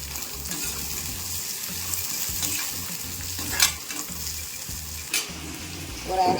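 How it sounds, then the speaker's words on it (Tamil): Onion and tomato frying in a pan, a continuous sizzle broken by several sharp stirring scrapes and a louder clatter near the end, close and clear with no talking. "சக்கனை வெங்காயம் சேர்த்துக்கிறேன் ஒரு மீடியம் சைஸ் தக்காளி கட் பண்ணி வச்சுருந்தேன் அதையும் சேர்த்துக்கலாம்"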